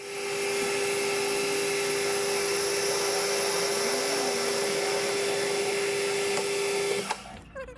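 A lathe turns down a custom nut made of 4140 steel, giving off a steady, loud machining hum with a constant whining tone that holds evenly before cutting off abruptly near the end.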